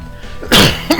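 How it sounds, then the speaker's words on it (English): A sudden burst of harsh coughing from a nearby man, a strong cough followed by two shorter hacking coughs, with no talking. "This cough's annoying."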